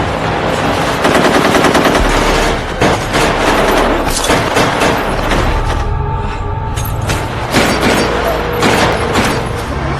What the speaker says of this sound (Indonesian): Teroris lainnya masih berusaha menyerang dan terus saling menembak dengan pasukan khusus.